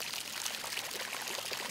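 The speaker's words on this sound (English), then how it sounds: "This water is naturally occurring out of the earth right here." Naturally occurring hot spring water in Hot Springs, Arkansas flows out of the ground with a close, steady pouring and trickling splash, soft but continuous with no talk over it.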